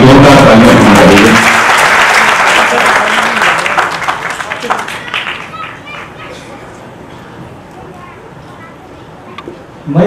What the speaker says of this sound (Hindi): एक बार जोरदार तालियां बजा रही